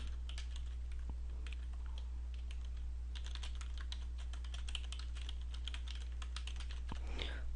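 Typing on a computer keyboard while adding notes to a PowerPoint slide, a steady stream of light, quick key clicks in uneven bursts over a constant low electrical hum, close and fairly quiet.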